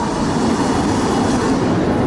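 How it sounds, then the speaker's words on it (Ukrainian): A loud, continuous rumbling roar of a tram rolling past close by in Budapest, steady throughout with broad rushing noise. "О, трамвайчик."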